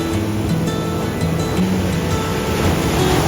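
Large sea waves, roughly one and a half times a person's height, break steadily on Chaliyam beach in Kerala during cast net fishing, a loud continuous surf roar with rolling crashes throughout.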